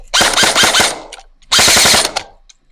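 A Specna Arms SA K04 ONE airsoft electric gun fires two loud, close bursts of rapid mechanical cycling clatter, each about half a second long, separated by a short gap.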